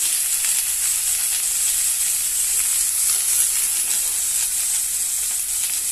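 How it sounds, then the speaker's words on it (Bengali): Chickpeas and potatoes hit hot oil in a vegetarian kabuli chana and aloo dish, giving a loud, steady sizzle that holds evenly throughout with no talking. "এখন আমি ছোলার আলুগুলো ঢেলে দিলাম।"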